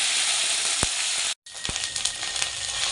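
Ginger, onion and garlic paste sizzles in hot oil in a frying pan while duck egg kalia is being cooked, a loud, steady hiss broken by a brief dropout and a few stirring clicks, close up and without talk.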